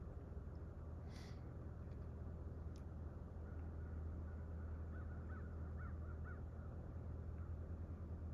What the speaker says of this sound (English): The birds are just a-singing.